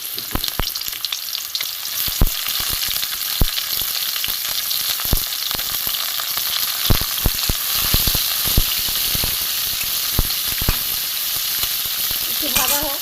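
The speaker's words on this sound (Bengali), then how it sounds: "তেল গরম হয়ে গেছে, উচ্ছেগুলো আমি দিয়ে দিচ্ছি।" Thin-sliced bitter gourd fries in hot oil for a bengali sukto, giving a steady close sizzle throughout, broken by sharp crackles and pops and occasional stirring.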